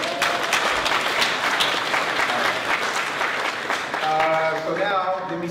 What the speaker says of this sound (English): And I have a round of applause for that